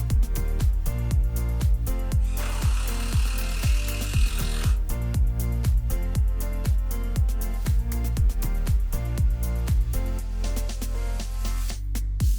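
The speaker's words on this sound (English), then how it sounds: "I'm taking the front legs and I'm drilling straight through" A power drill driving screws into wooden front legs of basement storage shelves, rapid repeated bursts of whirring and clicking with a longer rough grinding stretch partway through, close and loud, no talk.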